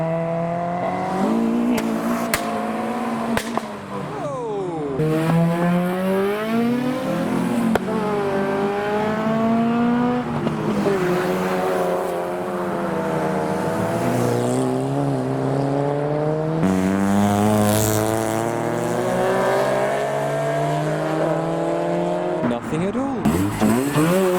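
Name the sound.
noisy cars revving and leaving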